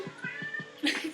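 A pet cat meows loudly and repeatedly in an indoor kitchen, four quick rising yowls in a row, then a longer, louder drawn-out cry at the end, near and alone with no talking.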